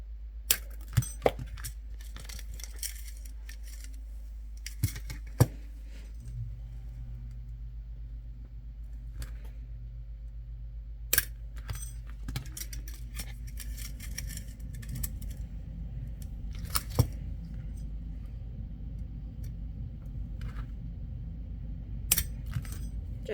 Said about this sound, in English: Now we're going to use that first piece of wire and cut